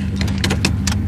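A 1987 Pontiac Trans Am GTA with a TPI 350 V8 idles with the hood open, a steady low rumbling drone heard up close, even and continuous with light mechanical ticking on top.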